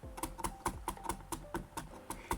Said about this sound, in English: Then we cut them into tiny pieces too.